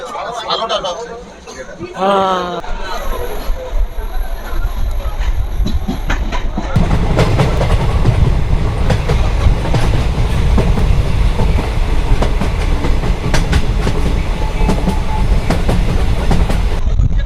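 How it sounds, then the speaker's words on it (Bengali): A crowded local train runs with a steady rumble and rhythmic clickety-clack of wagons, loud and continuous after a few seconds of people talking nearby. "ফাইনালি গাইস ট্রেনে উঠতে পারলাম তো লোকাল ট্রেনে সিট"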